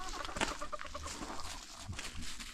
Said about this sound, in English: Chicken's already over here.